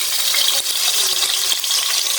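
Onions tipped into hot oil in a home kitchen fry with a loud, steady sizzle and crackle, close and continuous throughout, with no talking over it.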